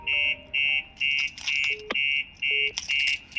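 Phone ringing from a call placed by a Starline S96v2 GSM alarm fitted to a Mercedes Sprinter van, a loud regular electronic ring tone in short repeated pulses, with bits of someone talking between them.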